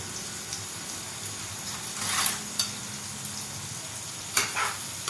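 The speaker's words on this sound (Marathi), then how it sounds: "कांदा पण फिरवून घ्यायचा" Onion sautéing in a pan for a chickpea-dal zunka, a steady low sizzle broken by a couple of brief scraping stirs and light clicks of the spatula, heard close with no voices.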